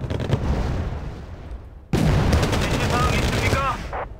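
Grenade launcher fire in the war strategy game Wargame: Red Dragon, dense booming bursts and crackling shots in a loud battle mix, with a sharp new volley midway and a voice talking over it.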